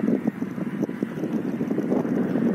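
Cold wind blowing at the seaside at Arbatka, buffeting the microphone in uneven gusts with a rough, rumbling texture throughout.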